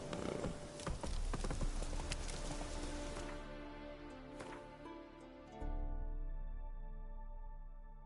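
The horse Roach's hooves clip-clop at a slow walk in the rain in The Witcher 3, soft rhythmic thuds over a steady patter of rain and a low ambient hum, with no talking.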